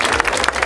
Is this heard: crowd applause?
yes